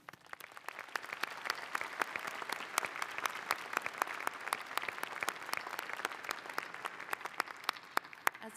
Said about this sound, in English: Please join me in applauding our outstanding faculty.